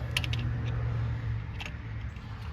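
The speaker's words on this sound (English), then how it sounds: "you'll be able to actually turn the caliper down, and it actually pushes the caliper back inside the caliper body" A brake caliper piston on a 2011 BMW 528i is wound back into the rear caliper body with a hand tool, giving close, soft mechanical clicks and grinding turns over a steady low hum.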